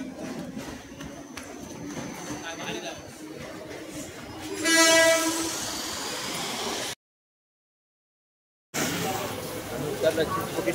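Train rumbling past a station near Chinchpokli, a steady broadband roar with a louder surge midway, broken by a brief silence before the rolling noise resumes; a voice talks over it.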